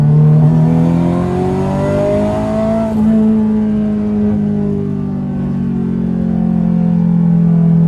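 A turbocharged 1988 Ferrari Mondial coupe engine revs loud and close, its steady tone climbing and holding through the RPMs, then easing and rising again over a constant mechanical drone.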